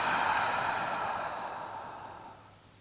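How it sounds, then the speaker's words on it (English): A long open-mouth exhale during yoga breathing, a soft airy breathy rush that starts strong and fades steadily over a few seconds, close and alone without talk. "Open mouth, exhale."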